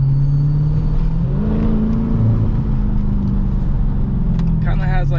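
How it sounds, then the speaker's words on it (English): A 2023 Dodge Challenger Scat Pack with its mid muffler and resonator both deleted, giving a loud, steady low exhaust drone throughout with engine tone shifting partway, and a voice speaking briefly near the end. "See if we can catch some more of that exhaust sound."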